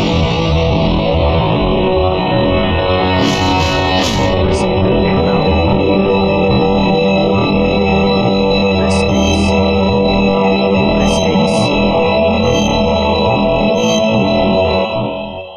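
Mission briefing audio from Metal Gear Solid: The Twin Snakes plays continuously: a loud, dense electronic drone with layered tones, sparse high blips and no voices, ending abruptly.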